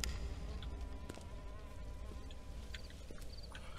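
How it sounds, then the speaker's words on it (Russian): Flies buzz steadily in the Follia Dear Father video game, a continuous close insect drone with game ambience underneath and no talking. "А мухи ко мне слетаются, потому что я говно."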